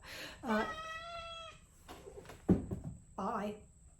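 A house cat gives a couple of drawn-out meows indoors, fairly faint, with a gap and a soft thump between the cries.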